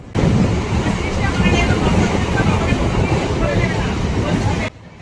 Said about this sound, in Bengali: 9টা 15 নাগাদ আমাদের ট্রেন বাহিরখন্ড স্টেশন থেকে আবার এগিয়ে চলল।